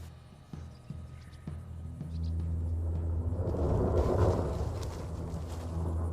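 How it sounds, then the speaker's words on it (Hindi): A low, distant rumble of thunder in the Amazon forest swells and rolls for several seconds, with faint wind noise over it. "ये आवाज सुनी? बादल की गरज।"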